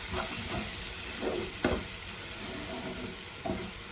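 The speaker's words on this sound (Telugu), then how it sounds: "ఒకసారి మొత్తం అంతా కలిసేలా తిప్పుకుందాము" Egg curry with tamarind leaves sizzles and fries in a pan as it is stirred, with a steady hiss and a few scraping strokes of the spoon, close by and without voices.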